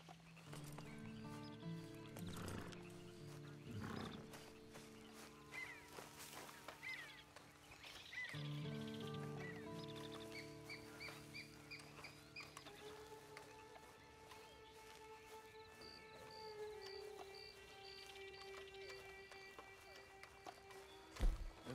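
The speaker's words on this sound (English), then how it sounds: "Then you better get on this horse." Horse riding in the video game Red Dead Redemption 2 Online, with rhythmic hoof clip-clops and snorts heard faintly under a musical score and some character voices.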